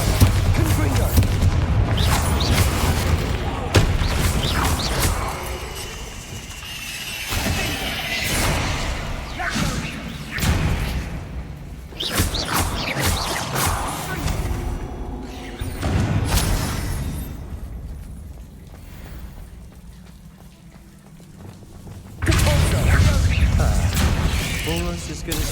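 Bombarda and Confringo spells go off in a Hogwarts Legacy fight against spiders: a dense run of booming blasts and whooshes, loud and close, with a voice speaking over parts of it.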